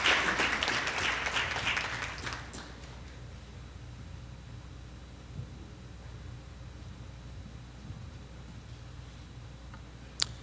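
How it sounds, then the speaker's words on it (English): Audience applause for an education official at a debate finals event, a dense burst for about two and a half seconds that quickly fades to a quiet hall, with one sharp tap near the end. "Please give her a round of applause as she comes"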